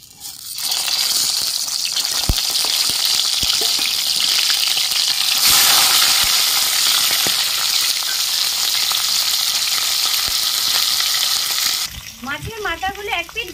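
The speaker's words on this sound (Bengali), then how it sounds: "নুন হলুদ মাখানো মাছের মাথাগুলো আমি ভেজে নিচ্ছি।" Salt-and-turmeric-coated fish heads fry in oil in a karai, producing a loud, continuous hissing sizzle close by with occasional clicks, and the frying fades near the end as a voice begins speaking.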